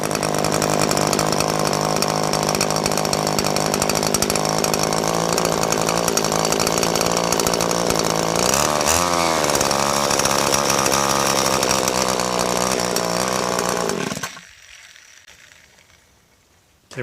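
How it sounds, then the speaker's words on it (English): A Husqvarna 335XPT chainsaw runs after repair, its engine snarling loudly and steadily up close for about fourteen seconds, briefly revving higher, then cutting off to near silence. "Now it's time to go out and give this a run."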